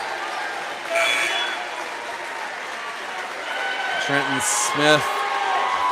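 The Sioux Valley home crowd applauds a departing player during a region 2A high school boys' basketball final against Hamlin, steady mid-distance clapping under an announcer's talk, with a couple of short horn-like tones near the end.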